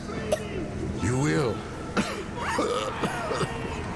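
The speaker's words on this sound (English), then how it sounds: "Oh no, they're coughing." People coughing and clearing their throats in a quarantine area of the Metro: Last Light Redux video game, several short coughs heard under game dialogue and ambient sound.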